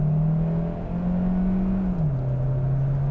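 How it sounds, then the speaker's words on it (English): Cabin hum of a Kia Sportage hybrid as it switches from electric drive back to its gas engine, a steady droning tone that shifts pitch and settles lower, with no talk. "It's back into gas engine mode."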